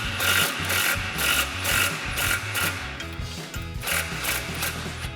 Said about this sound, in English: So we've got our 18mm socket and swivel adapter with an extension on our impact